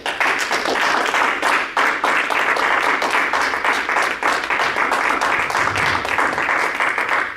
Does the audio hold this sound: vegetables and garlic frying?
no